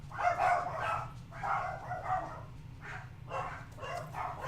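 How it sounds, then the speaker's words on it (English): Several dogs bark in repeated bursts at moderate distance, each volley of barks separated by short pauses, against a steady low background hum and no talking. "My dogs are barking right now."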